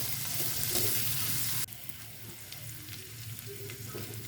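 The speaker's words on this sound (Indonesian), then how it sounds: "Kita tumis sampai bumbunya ini wangi dan agak layu ya." Sliced spice paste and crushed ginger sauté in hot oil, a steady bright sizzle that drops sharply in loudness partway through, then continues quieter with faint stirring clicks.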